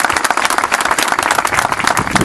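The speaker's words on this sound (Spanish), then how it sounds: "ese aplauso creo que es bien merecido" Close, loud applause from an audience for minister Alejandro Granado at a police station inauguration, dense overlapping hand claps with a brisk, slightly pulsing rhythm throughout.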